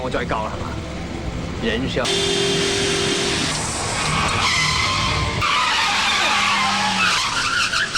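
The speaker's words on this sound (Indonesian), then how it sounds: "Sehingga Kim Lee pun mengejar mobil tersebut" Car tires skid and squeal loudly during a movie car chase, long screeching smears over engine roar, with a voice narrating over the action throughout.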